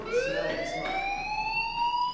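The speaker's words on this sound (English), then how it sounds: "do you hear that fire alarm?" School fire alarm from the video game Life Is Strange, a steady electronic wail whose tone rises smoothly and holds, loud and continuous throughout with no talk over it.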